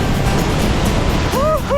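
Loud, roaring rush of Wapama Falls in Yosemite in late spring, a constant wall of water noise close by, with a short voiced exclamation near the end.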